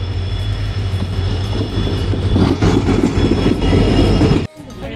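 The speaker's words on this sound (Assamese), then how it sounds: "ট্ৰেইন আহি গৈছে ৰ'ব।" A train pulling into a railway station, a loud rumbling roar with metallic clatter building over several seconds before cutting off abruptly.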